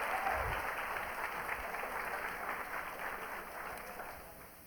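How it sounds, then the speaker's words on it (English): An audience claps in steady applause at a live science festival show, fairly quiet and diffuse, slowly fading toward the end. "let's give Ben a nice round of applause."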